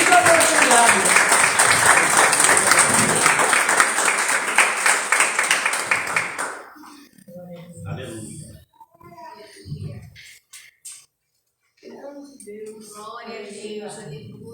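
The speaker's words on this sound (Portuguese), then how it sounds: "as palmas louvam o nome do Senhor Jesus" A church congregation at a Sunday service applauds in dense, sustained rhythmic clapping for about six seconds, then it fades and a voice speaks over quiet room sound.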